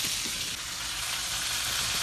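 Burrito frying in a hot pan while being basted with Bud Light beer: a steady, close broadband sizzle with soft crackles runs the whole time, no one speaking.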